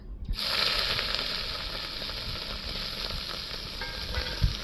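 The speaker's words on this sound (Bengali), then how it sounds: "আমি কড়াইয়ের মধ্যে দিয়ে দিব মাংসটা" Meat hits hot white oil in a wok for restaurant-style mixed chowmein, bursting into a loud, steady close sizzle and hiss that continues alone after a brief silent start.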